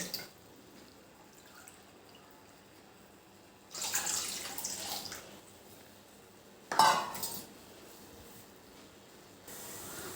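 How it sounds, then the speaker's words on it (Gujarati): Two cups of water poured into a cooking pot, heard as two separate splashing pours a few seconds apart, each followed by faint dripping and light clinks of the vessel. "એવા બે કપ આપણે પાણી લેવાનું છે"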